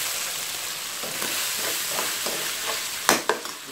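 Squid fries in a pan with a steady close sizzle, the crackle rising at the end as it is stirred and pieces knock against the pan, with no talk.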